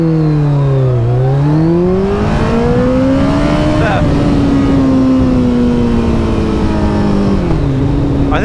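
A Kawasaki ZZR1400 or Z H2 motorcycle launches hard from a standing start, its engine note rising steadily through the revs, dipping at a gear change and climbing again, loud and close throughout.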